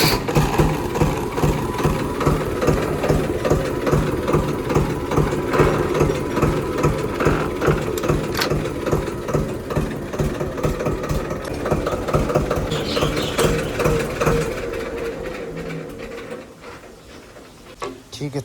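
Diesel engine of an Eicher 188 tractor idling by a shed, a steady close chugging rumble with fast regular knocking pulses that runs throughout and fades slightly near the end.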